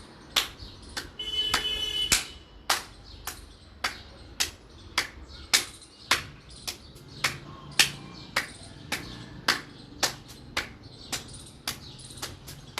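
Hands clap in steady rhythm during a yoga arm exercise, about twenty sharp, close claps roughly every half second, with faint insect and bird chirps in the background and no talking.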